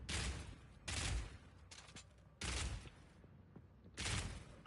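Submachine gun fire in the Path of Exile 2 video game: four short, dense bursts of rapid shots separated by brief gaps, fairly quiet overall.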